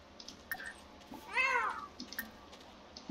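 A single video-game cat meows once, faintly and mid-length, with soft clicks and small background noises scattered before and after.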